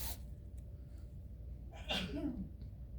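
One sharp sneeze bursts out midway through, fairly close, over a low steady hum with a breathy intake just before it.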